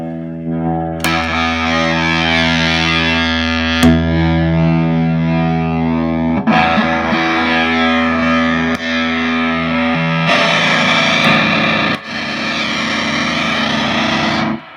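Heavily distorted electric guitar chords ring out loud and sustained through a distortion pedal switched between clipping diodes, with a few abrupt breaks as the player restrikes and shifts the tone.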